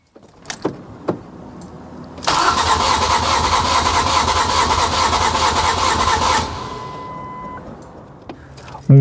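A Ford Mondeo Mk3 engine cranks steadily on the starter for about four seconds during a compression test, a loud continuous whirring drone, with clicks and faint handling noises before and after.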